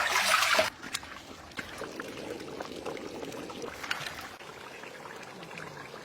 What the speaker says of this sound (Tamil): சோ அதுக்காக வந்து நம்ம நல்லா கழுவி எடுத்துக்கலாம்